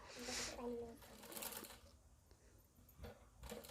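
A sewing machine runs in short stitching bursts while hemming a folded edge on a simple kurti top, with someone talking over the whirring throughout.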